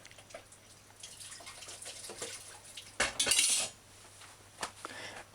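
Curry is stirred and burned in a pot, with a metal spoon scraping and clinking against the pot in scattered quiet strokes and one louder scrape.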